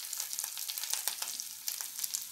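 Ganike (nightshade) greens sautéed in a pan with grated coconut, giving a soft, steady sizzle broken by scattered light clicks and scrapes of stirring, close and fairly quiet, with no talking.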